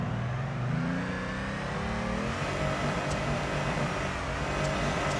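Engine of a Nissan Silvia S15 drift car in the racing game Torque Drift, revving hard on a clutch kick with a sweeping rise in pitch, then a sustained loud, buzzy high-rpm drone, close and steady, no talking.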